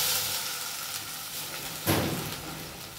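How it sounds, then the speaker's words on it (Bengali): Spice paste with tomato and a chilli sizzles in hot oil for mutton curry, a steady soft frying hiss with a sudden louder burst of sizzle near the middle as it is stirred, close and with no talk. "তো এটা যতক্ষণ না ভাজা ভাজা হয়, মানে তেলটা ছাড়তে থাকে, ততক্ষণ নাড়তে থাকবো ভালোভাবে"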